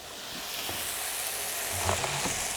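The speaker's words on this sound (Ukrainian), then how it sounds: "Обсмажили, зробили скориночку" Meat frying in a pan for home-canned beans with meat, a steady close sizzle and hiss running throughout as a crust forms, with a few small clinks of stirring near the end.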